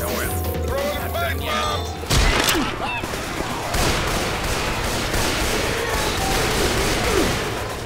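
Gunfire in Left 4 Dead 2 during a zombie horde: a loud burst of shots, then a dense, continuous clatter of firing and crashing, with players talking over it.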